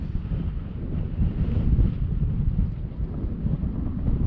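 Steady wind buffeting the microphone, a continuous low rumble with gusts swelling and easing, no voices.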